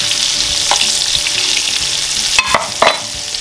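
Fish coated in egg fries in hot oil with a continuous bright sizzle, broken by a few sharper crackles and bursts as the pieces are moved and oil is spooned over them.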